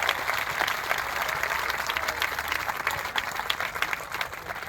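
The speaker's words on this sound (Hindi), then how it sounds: "एक बार जोरदार इन 3-4 साथियों के लिए तालियां हो जाए साथियों" A crowd at an outdoor protest rally claps vigorously, a dense sustained wash of applause at moderate volume, with no speech over it.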